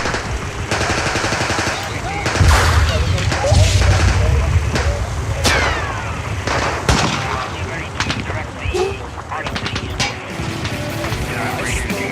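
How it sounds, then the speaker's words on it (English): Bursts of small arms gunfire, rapid cracks and volleys at mid distance with loud rumbling impacts, continuing over a noisy outdoor scene with voices shouting underneath. "Getting small arms fire."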